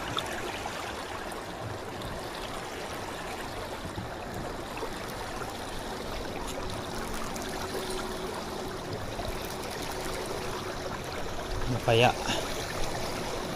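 Tidal water current flows along the shore, a continuous soft rushing and trickling; a person speaks briefly near the end.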